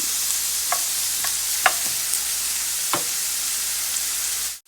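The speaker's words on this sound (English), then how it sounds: "I'm gonna let this saute for about 2 minutes, 2 to 3 minutes really" Onions sauté in a pan with a steady, bright sizzle, broken by a few soft clicks and scrapes of stirring, before the sound cuts off abruptly.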